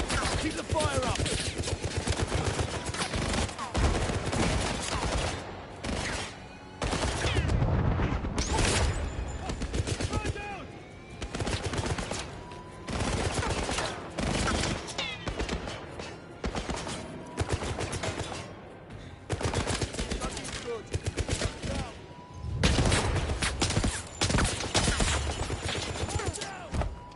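Sustained gunfire from the video game 007 First Light, with dense automatic bursts and rapid shots continuing almost without pause, loud and close, while voices shout now and then.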